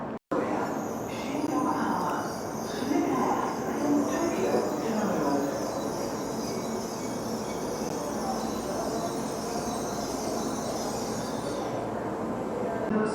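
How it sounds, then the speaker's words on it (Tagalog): A Shinkansen bullet train pulls into a station in snowy Japan as a steady, loud rumbling roar with a faint high whine, while a person talks over it. "So yun, guys, kararating lang ng Shinkansen train natin and papasok na tayo."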